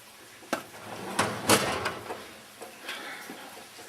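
Workshop drawers slide and bump a few times in quick succession, giving soft scraping rattles and clunks, one louder than the rest, fairly close in a quiet room.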